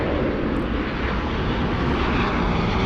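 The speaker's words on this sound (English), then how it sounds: "We have WestJet. WestJet, the Spirit of Canada, flying in from Vancouver." WestJet airliner inbound from Vancouver at LAX airport, its engines producing a loud, steady roar that stays constant throughout.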